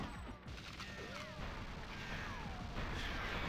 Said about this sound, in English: Ah, the explosions!